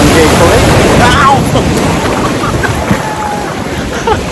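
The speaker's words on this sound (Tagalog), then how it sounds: "Anong lakas ng alon kapsat?" Strong ocean surf breaks and washes against the shore at Camara Island, Zambales, a loud rushing roar that swells early and then eases, mixed with wind buffeting the microphone.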